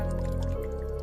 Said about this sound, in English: The dripping sound getting louder as she approaches.